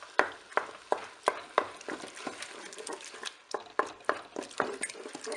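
Canned tomatoes are crushed and stirred with a utensil in a Cookeo multicooker pot for lentil minestrone, giving a steady series of sharp, close scraping clinks and knocks at a quick, regular rhythm.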